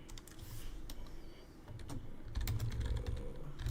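Rapid clicking of keys on a computer keyboard, a steady run of close, crisp taps with slightly heavier strikes in the second half, with no talking.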